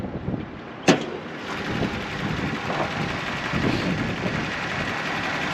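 A 1984 Toyota Celica Supra's 2.8 liter engine idles smoothly with a steady, even hum, opening with a single sharp knock before the drone settles.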